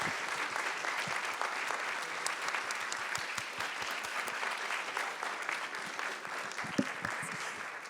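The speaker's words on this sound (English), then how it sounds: "Can we give a big round of applause for our incredible panelists here?" Audience applause for the panelists at a queer sci-fi comics panel, steady dense clapping from a sizable crowd that holds throughout at an even level.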